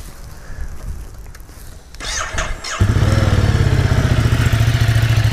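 A Ducati Multistrada 1260 Enduro motorcycle starts up after a few quiet clicks and a brief starter crank, catching into a loud, close, throbbing idle that settles into a steady rhythmic engine beat.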